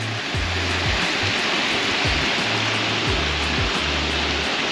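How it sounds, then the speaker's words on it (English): Water spilling off a lake dam wall at a carp fishery, a steady broadband rush close by with a few low thumps and rumbles underneath, no voices. "You can see the water running off down there, off the dam."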